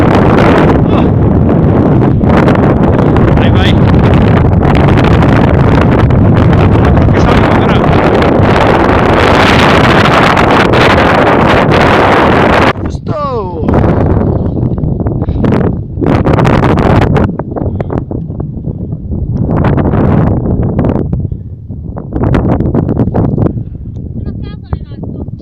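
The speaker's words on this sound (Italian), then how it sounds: "Un bel venticello fresco." Strong wind buffets the microphone at about 1835 metres on Monte Cancervo near Bergamo, a loud, gusty roar that rises and falls, with people talking through parts of it.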